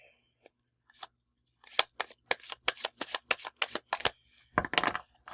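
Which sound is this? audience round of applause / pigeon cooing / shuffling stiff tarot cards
shuffling stiff tarot cards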